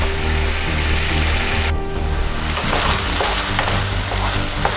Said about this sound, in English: we're going to start with 1 cup of Marsala wine. Let that cook down until it's almost dry again.